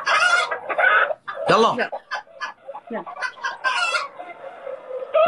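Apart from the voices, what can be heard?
chicken clucking sound effect played from a phone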